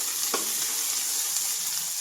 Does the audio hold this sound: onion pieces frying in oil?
yes